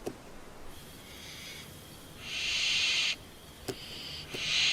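An owl gives several hoarse, hissing calls in succession, close by, with brief clicks between them against a quiet background.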